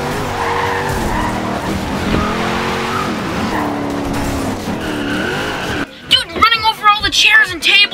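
A car speeds along and skids, with rising engine whine and tire squeal sweeping through, then sharp bursts of screeching and clatter toward the end as people shout over it.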